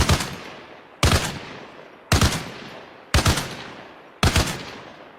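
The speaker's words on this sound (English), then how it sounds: "Mount the 50 cal in the next lane over" A mounted .50 cal machine gun fires in the military game Arma Reforger, five loud, close, heavy bursts about one second apart, each with a booming report and a decaying echo tail.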